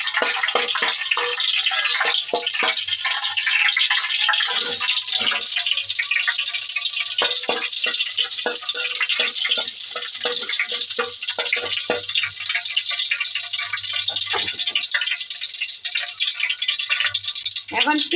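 Dried red chillies and a bay leaf fry in hot oil in a pan for a Bengali kochu bhorta with dried kachki fish, giving a steady, loud broadband sizzle with faint clicks of stirring throughout.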